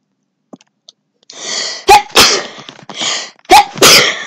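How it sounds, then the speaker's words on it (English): Several loud, close sneezes from a person with a cold in quick succession, separated by breathy gasps and sniffles, after a few faint clicks in near silence. "I'm sneezing. I have a cold."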